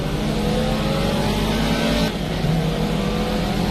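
A Caterham race car engine in a racing video game on the Cadwell Woodland circuit drones loudly and steadily throughout, with a brief dip midway before the revs pick back up.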